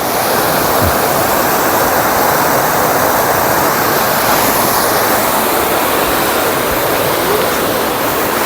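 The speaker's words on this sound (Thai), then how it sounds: "โอ้น้ำตกกระถิ่นๆเลย" Water rushes steadily over a weir on a rain-swollen stream, a dense, continuous roar close by with no other sounds.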